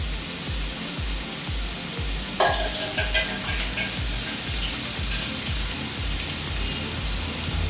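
Seasoned pork for a Kerala-style pepper roast sizzles loudly in a hot pan, with a steady crackling hiss and repeated scraping thumps of stirring.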